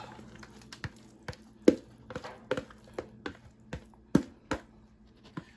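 Homemade cornbread dressing is emptied into a greased baking pan: a string of soft, wet thuds and squishy taps at an irregular pace, close by and fairly quiet, with no talking.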